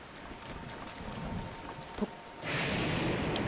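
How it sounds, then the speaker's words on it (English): Rain and thunder from a lightning storm in a Zelda video game: steady hiss of rainfall with a short low rumble near the two-second mark, then the downpour swells louder and brighter for the last second. "through a lightning storm."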